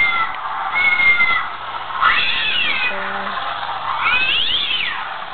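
Halloween cat decoration letting out a few drawn-out electronic meows and caterwauls, each rising and falling, loud and close, with a faint steady hum underneath.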